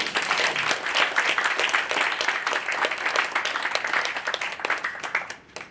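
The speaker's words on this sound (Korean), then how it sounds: "큰 박수 한번 부탁드립니다." An audience claps warmly at the 10th anniversary ceremony of a Korean lawyers' association for human rights and unification, with a dense, even round of applause that tapers off at the close.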